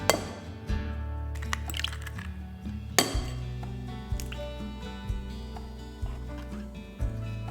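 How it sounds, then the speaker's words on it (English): Five eggs cracked against a mixing bowl for a breakfast frittata: a few sharp cracks and light clinks, close and distinct, over steady background music. "let's crack 5 eggs into a mixing bowl"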